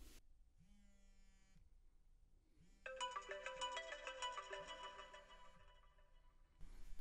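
Incoming phone call ringtone played through a Pioneer AVH-280BT car stereo over Bluetooth: a bright repeating electronic melody over a steady pulsing low beep, clear and close with no talking.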